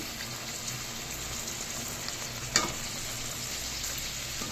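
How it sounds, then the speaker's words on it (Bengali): Small pieces of taro fry in a pan while being turned over with a spatula, giving a continuous moderate sizzle broken by one sharp scraping clink midway; no one speaks. "এইগুলোকে আবার একটু উল্টে পাল্টে দিচ্ছি"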